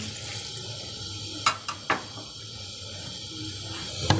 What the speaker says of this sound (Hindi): आधा लीटर के करीब इसमें पानी शामिल कर देंगे।